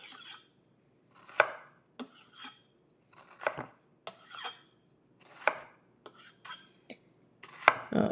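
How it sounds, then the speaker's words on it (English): A knife slices through an onion on a cutting board for shepherd's pie, about a dozen separate crisp cuts, each ending in a sharp tap on the board, close and quiet. "Slice across a few times, and then there you go."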